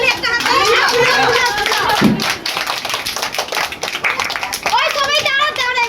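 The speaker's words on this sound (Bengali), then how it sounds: "হাততালি, একটা হাততালি" A group claps hands at a birthday gathering, a fast crowd of sharp claps running under excited children's voices and adult chatter, close and lively throughout.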